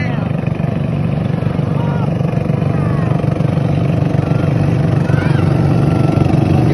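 A steady, loud speedboat engine drone runs throughout, churning close by on the water, with voices faintly under it.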